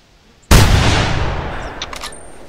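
A single loud hunting rifle shot rings out in the theHunter video game, set at Val-des-Bois, with a sharp crack followed by a long decaying echo and a few faint clicks afterward.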